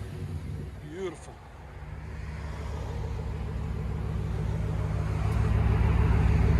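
A 2011 Chevy Tahoe with a 5.3L V8 and straight-pipe exhaust rumbles deeply at idle, a low, steady throb that swells gradually louder, with a brief voice near the start.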